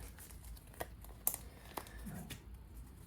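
Quick shuffle of a deck of game cards for a fantasy board game, heard as soft crinkly riffling and a few sharp card snaps, close and fairly quiet, with no talking.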